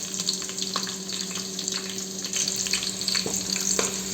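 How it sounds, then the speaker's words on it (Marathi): Green chillies fry in hot oil for poha chivda, giving a constant crackling sizzle with a few sharp pops and stirring clicks. The sound is close, steady and has no voices over it. "मिरची आपल्याला जास्त फ्राय करावी लागेल, नाहीतर चिवडा मऊ पडतो।"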